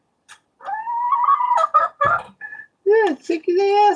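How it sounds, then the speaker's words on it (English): A hen clucking and gobbling close by in an artist's painting studio, a loud run of rising, warbling fowl calls in two bursts with a short pause between them. "I hear a chicken."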